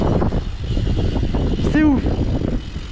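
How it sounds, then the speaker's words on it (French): A bicycle freewheel whirs loudly while riding, a brief rising-then-falling buzz over heavy wind rumble, with a short excited exclamation. "La roue libre va faire un bruit de malade!"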